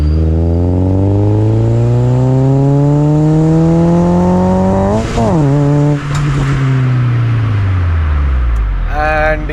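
A 1998 Honda Integra Type R engine revs hard and loud, its pitch climbing steadily, then dropping with a brief tire-squeal chirp mid-rev before climbing again, all close by with no talking over it.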